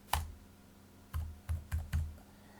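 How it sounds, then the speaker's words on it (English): Computer keyboard keys click as numbers are entered, with one isolated press followed by a quick run of four taps, close and fairly quiet over a faint background hum. "as you're typing these numbers, take your time."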